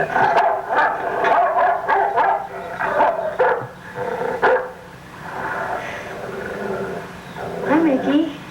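A dog barks and yips in short bursts, with a few whimpers, mixed in with people talking nearby.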